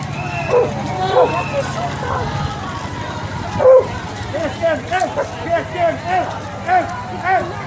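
Several dogs bark and yip in quick, repeated bursts close by, with people talking and shouting over and around them throughout.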